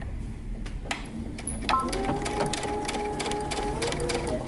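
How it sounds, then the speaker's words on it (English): A sewing machine stitches a dart on a dress made from Simplicity pattern 8123, giving a close, rapid mechanical whir with a brief start-up before the steady run. "we're going to sew our dart starting at the bottom"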